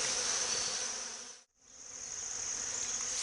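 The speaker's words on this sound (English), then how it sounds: "we can see that there are bees going around the queen here" Honey bees from a rogue hive removed in October buzz densely around a caged queen, a loud close steady drone that dips briefly to near silence midway before swelling back.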